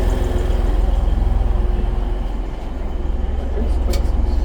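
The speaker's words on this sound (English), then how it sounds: "third train is pulling up now" A TransPennine Express train pulls into a station with a loud, close, rumbling drone and rhythmic low pulsing as it slows, steady throughout.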